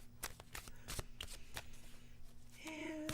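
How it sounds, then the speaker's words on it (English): A deck of oracle cards being shuffled by hand, a series of crisp riffling bursts at close range, with faint movement noises and a brief higher tonal sound near the end. "And I'm shuffling."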